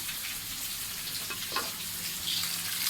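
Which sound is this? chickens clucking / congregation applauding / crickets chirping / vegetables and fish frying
vegetables and fish frying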